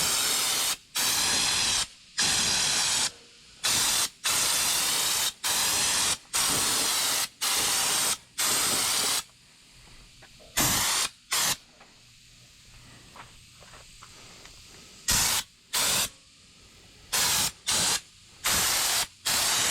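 Raptor bed liner coating sprayed onto Nissan Hardbody truck bumpers, heard as loud, steady hissing bursts of a few seconds each, repeated with short pauses and a quieter stretch in the middle.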